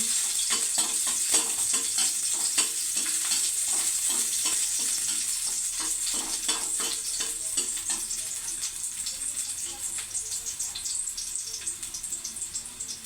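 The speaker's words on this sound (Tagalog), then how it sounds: "Lagay ang bawang." Garlic frying in a pan for Filipino ginisang monggo, a loud steady close sizzle that crackles continuously throughout with light stirring and no talking.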